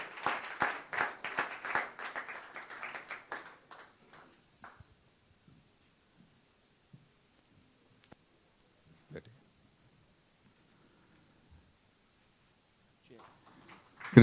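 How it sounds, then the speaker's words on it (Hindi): An audience applauds at a film first-look and song teaser launch event, loud sustained clapping for about four seconds that fades to near silence, with a brief burst of clapping returning at the very end. "जोरदार तालियां होनी चाहिए"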